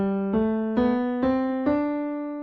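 A short ascending Dorian-mode scale, five clearly separated sustained notes struck one after another at a steady pace, each ringing on with rich overtones, close and clean with no talking.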